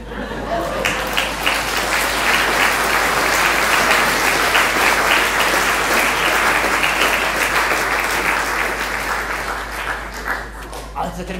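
Sustained audience applause fills the whole stretch after a wagon theatre play in Sarganserland, a dense, loud wash of many hands clapping with a few chuckles mixed in, easing slightly near the end.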